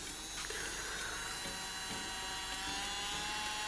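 A Melody Susie Jade S series portable electric nail drill runs at high speed, giving a continuous thin, high whine with a steady hum beneath it, close and constant throughout, with no speech.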